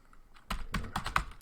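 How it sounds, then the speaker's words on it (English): Quick keystrokes tapped on a computer keyboard while typing a Linux command, a short burst of about eight close, crisp clicks after a brief quiet pause, with no talking. "we are going to type rmdir"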